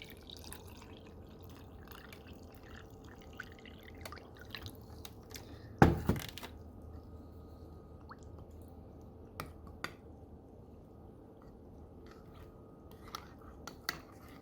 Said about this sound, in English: Let's add some water to it.